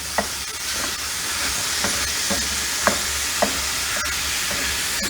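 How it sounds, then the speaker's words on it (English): Steady hissing sizzle of ground beef frying in a hot cast iron skillet, punctuated by several sharp scrapes and taps of a utensil stirring. "It's sizzling."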